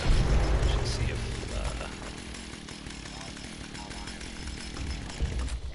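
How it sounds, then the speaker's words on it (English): Chainsaw in the Fallout video game revving loudly and continuously, a harsh buzzing drone that swells at the start and end, with game effects and a voice underneath. "I like the chainsaw. I just don't like the sound of it."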